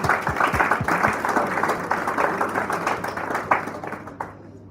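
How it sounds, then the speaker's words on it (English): An audience at a student leadership symposium applauds a speaker after a talk, steady, dense clapping that holds at moderate loudness and then thins out and fades toward the end. "Can we give a round of applause for our speaker just now?"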